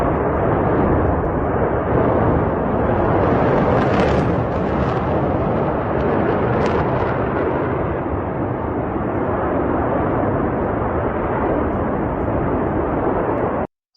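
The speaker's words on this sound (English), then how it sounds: "The explosion of the main gas pipeline near Omsk is burning phenomenally." A main gas pipeline near Omsk burning after an explosion gives a loud, continuous roaring rumble that stays dense and unbroken throughout, with no voices.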